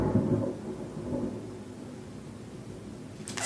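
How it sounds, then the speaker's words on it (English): Distant thunder rumbles low and heavy, swelling at the start and fading into a soft, steady wash of noise. "Thunder."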